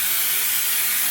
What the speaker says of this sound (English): I'm just going to keep spraying my hair until it happens